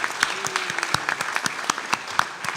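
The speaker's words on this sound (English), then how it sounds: "Let's give them another round of applause for that" An audience gives another round of applause after a charity program presentation about work in Uganda, a fairly close and loud spread of individual claps with sharp distinct hits.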